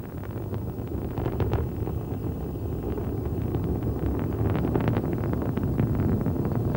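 The Space Shuttle Endeavour's main engines throttling back during launch, a continuous deep roaring rumble with crackle on top, loud and unbroken from start to finish.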